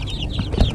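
A Bantam Silky chicken gives short, soft clucks close by in a yard, a brief burst of low murmuring calls.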